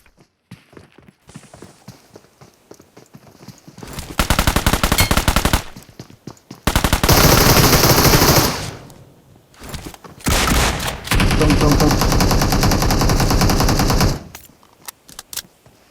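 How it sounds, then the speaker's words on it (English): Honey Badger gunfire in the BGMI mobile battle royale game, loud sustained automatic bursts in three long strings separated by short pauses, with faint footstep-like tapping before the first burst. "The gun that I'm using is Honey Badger"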